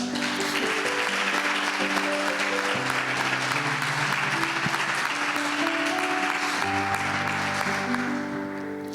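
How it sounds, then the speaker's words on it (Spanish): A church congregation applauds the word during a Spanish-language sermon, sustained full-room clapping over a steady organ or keyboard chord backdrop. "Den un aplauso a la palabra"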